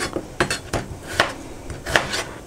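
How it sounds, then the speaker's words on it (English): Sharp knife chops through potatoes on a cutting board, about six quick knocks in an uneven rhythm, close and clear with no voices. "peel the spuds and chop them into chunks"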